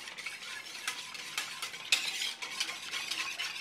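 A strawberry custard mixture thickened with heaped cornstarch is stirred in a pan, making repeated quiet scraping and swishing strokes in an irregular rhythm. No one speaks.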